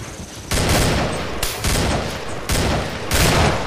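Bursts of dense automatic gunfire in the video game Killing Floor, loud and sustained in several long volleys separated by short breaks.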